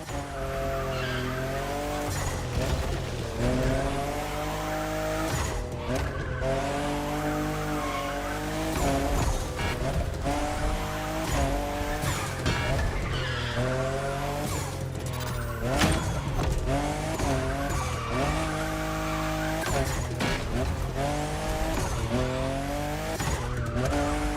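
Toyota Supra, fifth generation, drifting in The Crew Motorfest racing game, with a continuous wavering tire squeal and revving engine sustained throughout, loud and up close, no talk.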